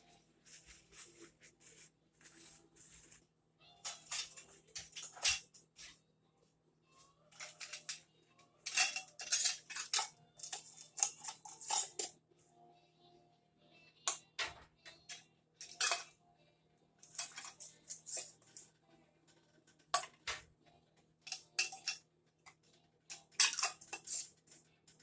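Lids being set and fitted onto jars after the rims are wiped, heard as close, intermittent metallic clinks and scrapes arriving in short clustered bursts with quiet gaps between them.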